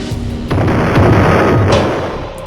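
An explosion in the Roblox game Brookhaven: a loud, sudden boom followed by a sustained, rumbling blast that slowly fades.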